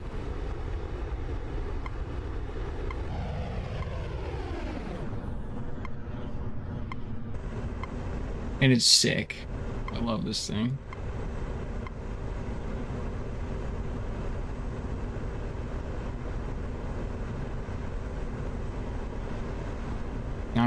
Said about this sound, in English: This is a really fast jet